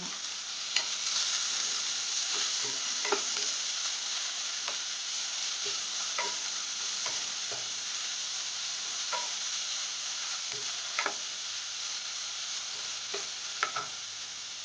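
Onions frying in ghee with salt, stirred in a pan: a low, steady sizzle throughout with regular soft scraping clicks of a spoon, fairly faint and without speech.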